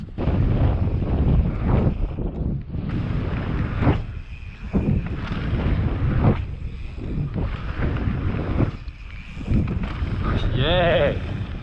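Gusty wind buffets the microphone on a mountain bike trail at Wanaka, New Zealand, as loud broadband roaring in repeated surges, with a person talking underneath.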